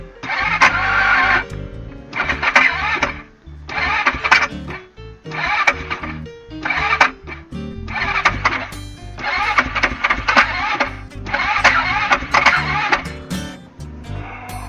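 A car engine cranks repeatedly after a crankshaft position sensor replacement, with a series of whirring starter bursts separated by short pauses and no clear catch, recorded close and fairly loud.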